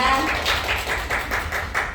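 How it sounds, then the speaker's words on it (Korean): Audience applause at a product lecture session, a steady, moderately loud patter of many hands clapping with a roughly rhythmic pulse. "지금까지 제품 강의를 주실 임희연 원사님께 다시 한번 박수 부탁드립니다"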